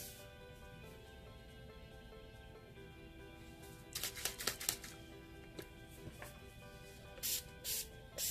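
Faint background hum, then bursts of short hissy sprays of Urban Decay All Nighter setting spray over makeup, a quick cluster in the middle and a couple more near the end.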